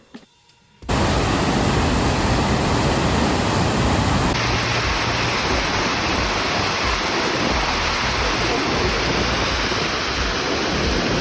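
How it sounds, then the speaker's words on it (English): A waterfall in Mount Rainier National Park roars steadily and loudly after a brief quiet start, a dense unbroken rush of water with no voices over it. "Here's our last waterfall of the day."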